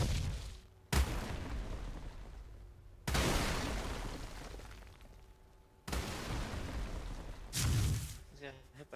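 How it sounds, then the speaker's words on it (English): Turrets fire in the ARK video game during a small-tribe PvP match, several sharp heavy blasts with long rumbling tails coming in separate bursts, with people talking over the action. "He's getting hit by turrets."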